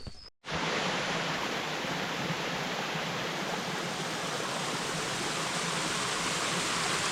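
Hiker Peril Falls, a waterfall on the Foothills Trail, roars loud and steady as a broad, unbroken rush of falling water after a brief dropout at the start.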